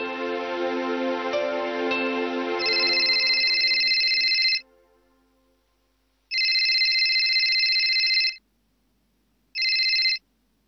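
A telephone ringing while a call is placed: a steady ringback tone first, then electronic rings in two long bursts and one short burst, separated by silence, clear and close with no talk.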